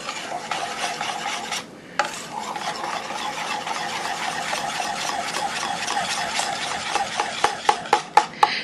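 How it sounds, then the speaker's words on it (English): A utensil stirs chocolate molten lava cake batter in a bowl, giving a steady close-up scraping and rubbing that runs continuously and ends in a few sharper taps and knocks. "Just keep mixing until you know that it is all mixed together."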